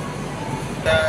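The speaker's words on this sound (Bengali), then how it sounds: "এখন দ্রুত গতিতে ট্রেন ছুটে চলেছে।" A Shatabdi Express train rushes along after leaving Kishanganj station, with a continuous low rumble and rattling, then the noise brightens and grows louder near the end.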